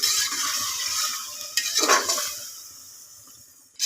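Chicken stirred into biryani in a pressure cooker, with a soft scraping and sizzling in hot oil and a brief louder clatter of the spoon against the pot midway.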